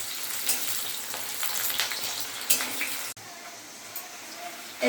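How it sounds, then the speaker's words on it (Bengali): Onions sizzle in hot oil in a pan, a steady crackling hiss that drops to a quieter simmer partway through. "পেঁয়াজগুলো একটু ভেজে নিই লাল লাল করে।"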